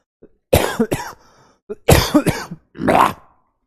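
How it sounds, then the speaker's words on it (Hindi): Several harsh coughs from one person, close and loud, in three short bursts separated by brief pauses, with no talking between them. "बोल रहे हैं तो खांस रहे हैं"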